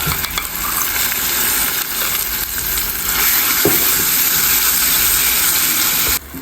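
Mustard seeds, urad dal, curry leaves and ground garlic paste frying in hot oil for garlic chutney. A loud, close, broadband sizzle and crackle runs continuously, with a brief stirring knock near the end. No voices.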